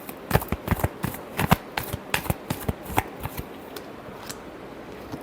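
Tarot cards shuffled by hand in a close, crisp burst of riffling slaps and flutters, many quick clicks in an uneven rhythm that thin out toward the end, with no talking.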